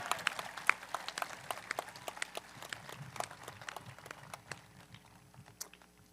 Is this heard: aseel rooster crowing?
no